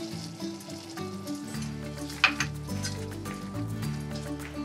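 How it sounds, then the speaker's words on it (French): Tomatoes with salt and a teaspoon of turmeric simmering gently on low heat for a Réunion rougail saucisse, giving a soft steady sizzle with one sharp clink of a utensil midway, under a faint background hum. "On laisse compoter à feu doux environ 15 minutes."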